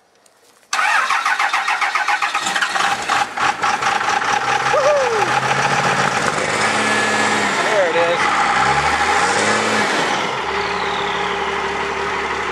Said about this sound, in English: All right, so Master Outdoors is gonna get his truck running.